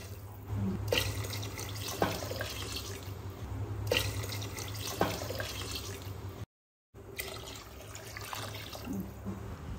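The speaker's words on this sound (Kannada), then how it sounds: "ನಾಲ್ಕು ಗ್ಲಾಸ್ ನೀರು ಹಾಕ್ಕೊಂಡಿದ್ದೀನಿ" Four glasses of water are poured into a pressure cooker holding rice, a close, running, splashing pour that continues in bursts with a short break in the middle.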